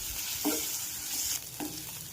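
Muthiya dumplings tossed with salt, coriander-cumin powder and red chilli powder in a pan, giving a steady soft sizzle with two short scraping stirs, close and alone.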